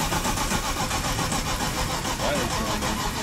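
An old car's engine turns over and catches, a continuous close mechanical churn with a speaking voice mixed in.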